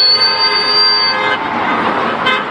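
A sustained car horn blares over traffic noise, then fades into a busy roadway rumble with a brief second honk near the end.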